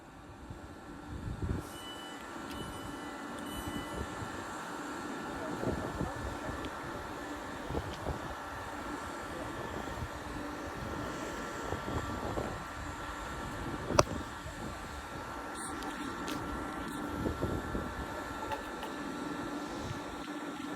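Two coupled Class 350 electric multiple units forming eight carriages run through Lichfield Trent Valley station on the West Coast Main Line, a continuous low rumble and hum with faint rail clatter at moderate distance.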